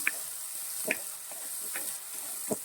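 A spice mixture with chillies and mustard seeds is sautéed in a pan for a Kerala pearl spot curry, a soft steady sizzle broken by a few scraping stirs of a spoon against the pan, close and without voices.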